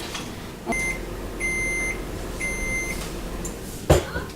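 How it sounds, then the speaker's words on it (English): A microwave oven hums steadily while steaming food, three evenly spaced high beeps sound, followed by a clunk near the end. "we're going to put it in the microwave"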